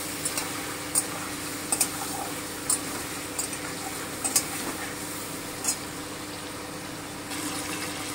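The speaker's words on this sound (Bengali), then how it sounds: "হালকা ব্রাউন করে ভাজবো।" Pieces of chicken for butter chicken frying lightly brown in a pan, a steady close sizzle and hiss with occasional spatter pops and stirring clicks.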